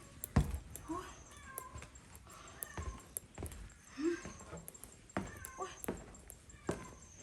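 A cat meows a couple of times, soft and fairly close, amid scattered clicks and handling noises in a quiet abandoned house.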